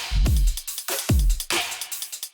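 Punchy trap drum pattern built from dubstep samples: deep booming kicks twice with snappy hits and rapid hi-hat-like ticks between, loud and close, with no voices.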